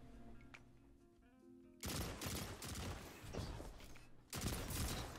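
Halo-style battle rifle fire in Destiny 2: two loud, dense bursts of rapid gunfire break in after a quieter stretch, close and punchy, with a short pause between them.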